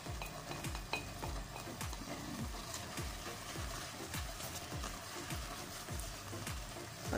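Coriander stirred into a sizzling pan with beef and saluyot (molukhiya) leaves, a steady frying hiss under repeated rhythmic scrapes and knocks of a spoon against the pan, close and continuous, with no talking.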